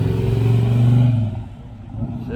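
A Chevy II Nova engine revs at a car show, a deep rumble that swells for about a second and then fades under nearby chatter.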